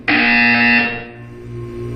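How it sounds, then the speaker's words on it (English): In the game Portal 2, a harsh electronic buzzer blares loudly for about a second and then cuts to a fading hum. "You will hear a buzzer."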